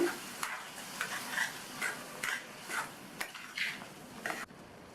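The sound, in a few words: stirring tomato onion curd gravy in pan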